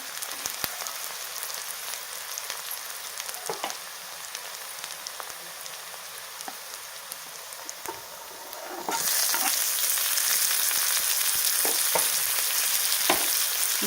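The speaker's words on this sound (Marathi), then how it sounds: "टोमॅटो छान परतूयात आणि ह्याच्यामध्ये थोडीशी हळद आणि मीठ घालूया" Chopped tomatoes sauté with onions in hot oil for a traditional mixed vegetable dish, a steady close sizzle with occasional stirring clicks, rising to a brighter, louder hiss partway through.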